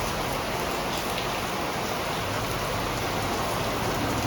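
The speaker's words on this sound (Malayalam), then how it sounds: "രാവിലെ എണീറ്റപ്പോൾ തന്നെ നല്ല മഴയാണ് കേട്ടോ" Heavy morning rain pours down steadily in a dense, even hiss of drops striking surfaces, close and constant throughout with no voices.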